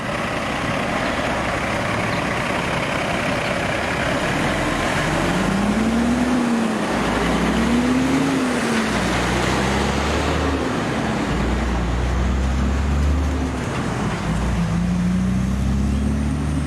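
Heavy-duty trucks pull away on a departure run bound for Malawi, a steady loud engine rumble with rising and falling gear tones and road noise throughout, no voices.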